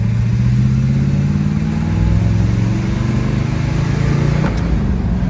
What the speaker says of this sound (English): I'll open her up here a little bit from second, see how she does.